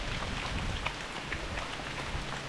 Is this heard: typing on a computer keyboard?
no